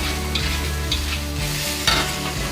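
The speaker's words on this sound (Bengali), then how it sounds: "এবার এই মশলাগুলো আমি কষবো" Ground cumin and other spices sizzle and crackle steadily in a hot pan, close up, while a spoon stirs and scrapes through them.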